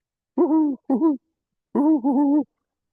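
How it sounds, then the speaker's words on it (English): A great horned owl hoots at night in a low, mellow series, first two hoots in quick succession, then after a pause another pair run close together, clear and moderately near against silence. "great horned owl"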